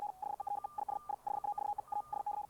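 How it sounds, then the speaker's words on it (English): Computerized high-speed CW Morse code for meteor scatter ham radio communication comes through as a rapid stream of clean beeping tone pulses on a steady pitch, dense and fast, over faint background hiss. "we blast out CW signals called computerized high-speed CW"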